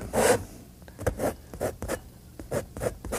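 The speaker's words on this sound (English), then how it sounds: "And we scrape it just to remove excess paint" A tool scrapes excess paint across a painting's surface in a series of rough, rhythmic rasping strokes, close and fairly loud with no voices.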